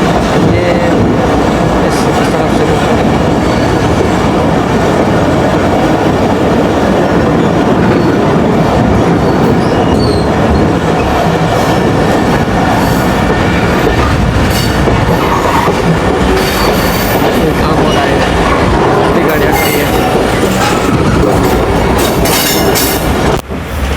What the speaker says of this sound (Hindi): तो ट्रेन आगे पहाड़ों पर चलेगी